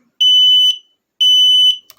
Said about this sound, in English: It can permanently disable,